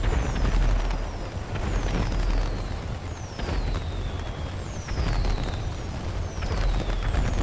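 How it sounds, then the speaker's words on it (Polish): Fireworks in a GTA V roleplay game go off in a string of bursts, each launch whistling down in pitch before a popping crackle, repeating about every second and a half at moderate volume. "Epicko brzmi z tym fajerwerkami."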